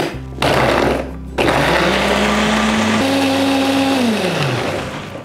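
A blender motor whirs loudly and steadily as it grinds spice paste for grilled soy-sauce chicken, its pitch shifting as it grinds, with a brief pause before starting up again; no talking.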